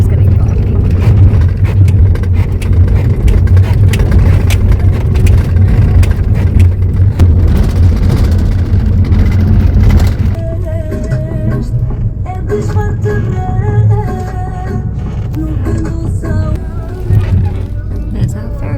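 Van driving on the road toward a ferry port in Albania, a loud steady engine and road rumble throughout that eases slightly partway, with people talking over it.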